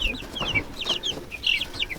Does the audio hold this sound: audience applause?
no